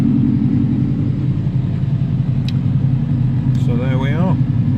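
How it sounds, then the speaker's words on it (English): A car engine idles steadily after a stone cold start on LPG in zero-degree weather, a low, even rumble close by; someone speaks briefly over it near the end. "this was a stone cold start on LPG"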